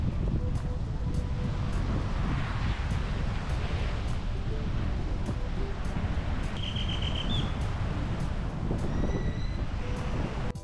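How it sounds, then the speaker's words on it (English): Steady wind buffets the microphone in a continuous low roar on a morning beach in Akumal, Mexico, with surf washing in the background and a few faint bird-like chirps. "It's a bit windy here in the morning"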